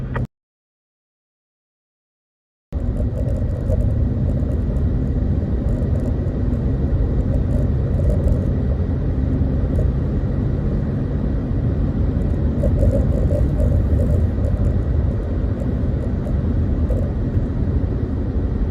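A convoy of trucks, including Tesla trucks, passes on a road with a loud, steady, continuous engine rumble and whir that begins abruptly after a short silence and holds unbroken.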